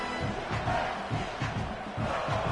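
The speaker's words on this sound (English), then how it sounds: "This crowd trying to make life miserable for this offense." A stadium crowd in a college football video game gives off a steady, dense roar of massed voices, loud and unbroken over a couple of seconds.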